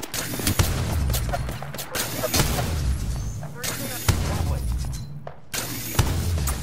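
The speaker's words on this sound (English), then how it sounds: "I'm spotted, taking fire." Video game gunfire hits a player who is taking fire. Rapid bursts of shots and sharp impacts crack close and loud in repeated volleys.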